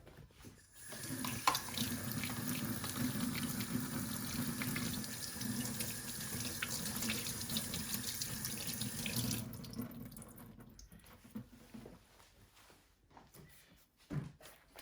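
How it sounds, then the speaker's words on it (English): Cold tap water runs steadily into a sink for several seconds, splashing as salmon is rinsed beneath it, then shuts off, followed by faint handling clatter. "then we rinse the salmon with the cold water."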